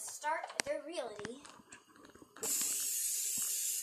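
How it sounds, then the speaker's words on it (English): Water squirted onto a heating pan before scrambled eggs are cooked gives a sudden loud steady hiss of sizzling that starts partway through and continues, following a few seconds of a person talking and some clicks. "Squirt some water at it, and it's kind of kind of sizzling"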